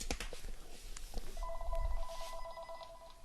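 A telephone rings with a steady electronic ringtone that begins after a few soft knocks and carries on to the end, moderately quiet over room noise.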